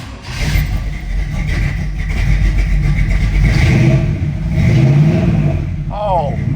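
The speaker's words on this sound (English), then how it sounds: "Oh man, those Flowmasters sound good. Oh, what a great sounding engine." A carbureted 1967 Chevrolet Camaro RS with Flowmaster exhaust fires up cold and settles into a loud, rumbling idle with small revs, heard close and continuously with people talking over it.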